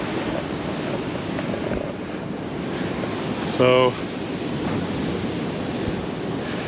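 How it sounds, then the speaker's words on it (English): Ocean surf rolls in on a Florida beach, a broad continuous wash of breaking waves roughened by wind buffeting the microphone, with a brief spoken word and a short whistle-like tone partway through. "Beautiful waves today."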